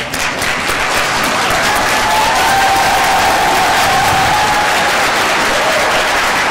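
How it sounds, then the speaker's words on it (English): Graduates stand and cheer at a commencement ceremony, producing sustained, loud applause and crowd noise that stays thick and steady from start to finish. "Graduates, please stand and cheer for all those that have helped you get to this moment."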